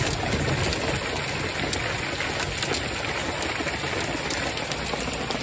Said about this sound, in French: Grosse averse de grêle.